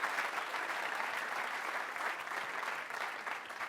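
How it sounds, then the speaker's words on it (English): Steady audience applause rises at a college convocation for participants, a dense, even wash of many hands clapping at once that holds at a constant level from start to finish. "let's give them a round of applause"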